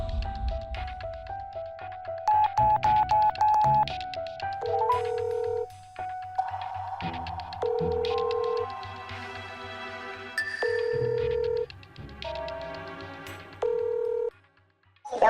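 A phone call is placed with a run of dialing tones and beeps, followed by repeated ringback tones and a ringing pattern, loud and electronic with a steady low hum beneath it.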